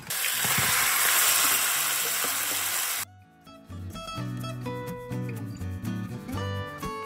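Lamb hits hot oil and caramelized sugar with a loud, dense sizzle for about three seconds, then gives way to quieter clinking and mechanical rattling.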